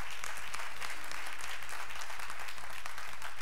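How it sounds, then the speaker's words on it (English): Congregation clapping in a church service after a prayer, a continuous, even wash of many hands applauding at moderate distance with no speech over it. "Yes, it's all right to clap."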